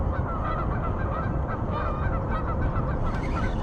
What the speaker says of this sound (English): I'm watching these geese.